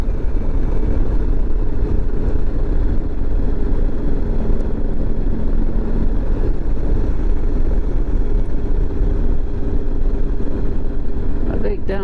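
Honda ST 1100 motorcycle cruising along a road, a steady loud broadband engine and wind roar held close throughout with no break, a brief sharp event near the end.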